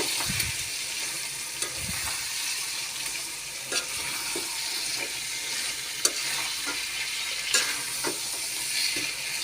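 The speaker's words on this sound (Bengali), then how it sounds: "মুরগিগুলো বেশি ভাজা হয়ে গেছে" Chicken fries in a pan with a steady loud sizzle, punctuated by periodic scraping and clicking stirs of a utensil, no one speaking.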